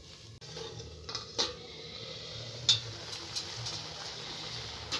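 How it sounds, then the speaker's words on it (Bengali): A lid is set onto a pot of lentils, a few soft metallic clinks and taps, quiet and close in a calm kitchen. "এবার ঢাকা দিয়ে আমি ডালটাকে সেদ্ধ করে নেব"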